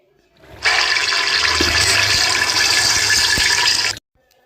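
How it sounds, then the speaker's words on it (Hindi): Yakhni stock water poured into a pot of UP wedding-style biryani makes a loud, steady rushing pour that lasts about three and a half seconds, heard alone with a clean start and stop. "ये रहा यखनी का पानी जो कि हमने इसके अंदर ऐड कर दिया है"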